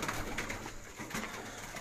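Pigeons coo softly in a few low, rolling calls, close by on a rooftop, with a light background hiss and no speech.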